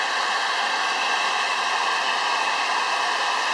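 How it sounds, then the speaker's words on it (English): A heat gun warms a bearing with a steady, close, continuous blowing hiss that stays even throughout with no pauses. "we're going to heat this bearing with the heat gun"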